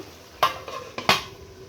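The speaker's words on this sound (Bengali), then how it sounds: "একটু আমি নেড়ে চেড়ে দিব" Pumpkin for fish head ghonto is stirred in a kadai with two distinct scraping strokes of a spoon against the metal, plus fainter shuffles between them, over a quiet sizzle.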